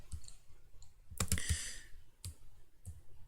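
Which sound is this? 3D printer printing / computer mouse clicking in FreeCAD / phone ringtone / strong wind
computer mouse clicking in FreeCAD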